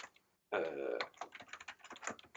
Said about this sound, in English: what we can do is we can type vignette